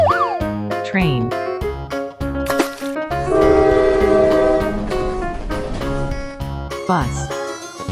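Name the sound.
train with horn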